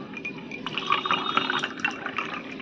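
Cold water poured over ice into a homemade aam panna mango drink, a close, steady splashing fill with bright trickling and faint clinks from the glass, no voices.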